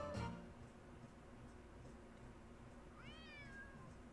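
Yuri the cat meows in the Nancy Drew game Secret of the Old Clock, a single drawn-out rising-then-falling meow near the end, fairly clear over a faint steady room hum with a soft tick earlier.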